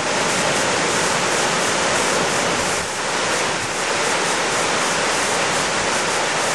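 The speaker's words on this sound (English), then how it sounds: "And back to the waterfalls again." A loud, continuous roar of rushing, falling water from Lepreau Falls, New Brunswick, fills the whole clip, broad and unbroken.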